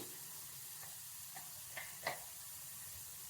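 Onions fry in a pan with turmeric and spices, giving a steady soft sizzle and hiss with a few faint spoon knocks against the metal and no talking.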